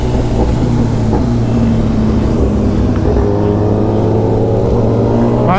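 Kawasaki ZX-10R motorcycle riding off, a steady loud engine drone with tonal harmonics and a rising rev near the end, mixed with rushing wind noise.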